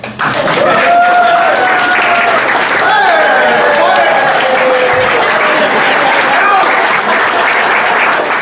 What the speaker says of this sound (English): Please, a round of applause for Dustin Shepard.